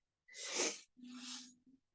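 A single close, breathy sneeze bursts out, followed by a short voiced exhale and a faint gasp, in an otherwise quiet room.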